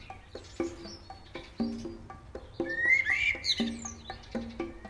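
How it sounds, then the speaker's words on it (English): A looped bird song sample used in a music improvisation: light chirps and tweets repeat in a steady pattern over soft, plucked tonal notes. Moderately quiet, with no talk. "Let's try it with this bird song"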